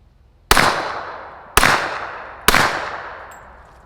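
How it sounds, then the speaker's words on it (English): Three sharp suppressed gunshots from a Wolfpack Armory Whisper Pickle suppressor firing Fiocchi 158 rounds, each a loud crack with a short ringing decay, spaced about a second apart. "I'm gonna put 3 rounds in real quick to see how she sounds."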